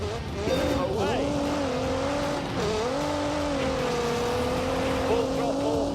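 A race car in The Grand Tour video game roars through a flying lap, its engine note holding steady and dipping briefly, with tires squealing, loud and close.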